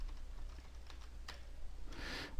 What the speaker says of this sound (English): and type in some search criteria,